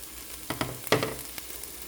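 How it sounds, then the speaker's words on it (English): Scrambled eggs with tomatoes fry in a pan, giving a soft, close sizzle broken by a few quick stirring scrapes, with no talking. "My egg scramble this morning I'm making with tomatoes."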